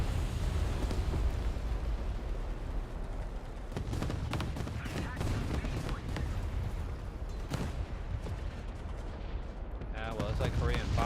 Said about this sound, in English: I'm gonna blow up from the ammunition fire.